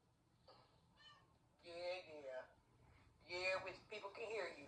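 A cat meowing indoors, several short cries in a row, faint at first and then louder, with someone talking around them.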